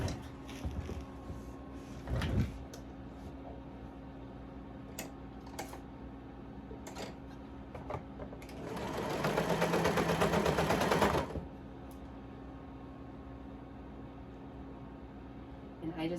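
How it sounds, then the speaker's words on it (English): A serger sewing machine stitches a neckband in one short, fast burst of whirring mid-clip, set against a quiet room with occasional light clicks and handling taps. "I'm just gonna do it on my serger"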